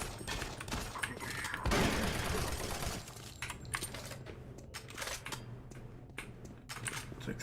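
Gunfire in the video game Doom 3, a series of sharp clicky shots and bursts with a louder blast near the start, layered over a low game hum, no talking.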